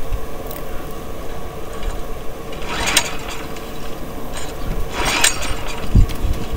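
Recoil pull-starting of a Genkins 4500 gas-powered generator engine with the choke closed: two brisk rasping cord pulls stand out over a constant mechanical rumbling background, the engine turning over without catching.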